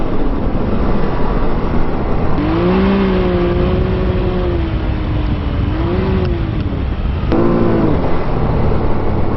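A UTV engine revving hard as the machine slides sideways, loud and close throughout, its pitch rising and falling in sweeps over steady rumble and wind.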